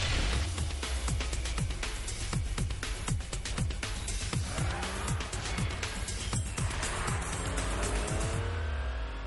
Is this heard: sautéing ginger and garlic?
no